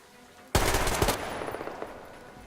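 Loud burst of automatic gunfire in the video game Metro Exodus, a rapid rattling volley that starts abruptly and trails off into scattered echoing shots and decaying reverb.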